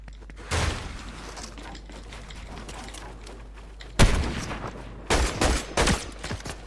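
Fortnite gunfire: several bursts of rapid shots, one near the start and heavier clusters toward the end, over a constant low rumble and faint game ambience, with no talking.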